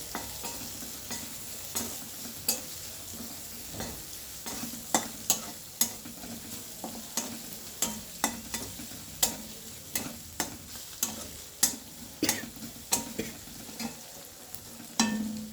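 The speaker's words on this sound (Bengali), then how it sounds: "এবার রসুনটাকে ভালো করে আমি ভাজা ভাজা করে নেব।" Steady sizzling of chopped garlic frying in mustard oil, punctuated by regular scraping clicks of a utensil stirring the pan, with no voices.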